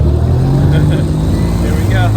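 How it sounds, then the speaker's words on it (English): A farmer's tractor pulling a cart in Norway's Geiranger fjord area, its engine a loud steady low drone close by, with someone speaking briefly over it. "He had his tractor and cart."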